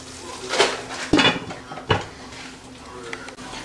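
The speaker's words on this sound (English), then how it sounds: "Now I'm going to close this pan now." A lid settles onto a pan of kadai vegetable curry on the stove, giving three distinct metallic clanks and taps spaced about a second apart, moderately loud over a quiet kitchen background.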